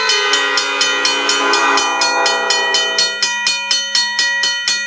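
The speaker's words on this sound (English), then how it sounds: "P5 horn alert." A Nathan P5 train horn sounds in a train animation as a loud, sustained multi-chime chord, paired with a steady rapid clanging mechanical bell that continues throughout.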